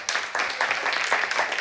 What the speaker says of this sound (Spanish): Yo le daría un aplauso a María Jesús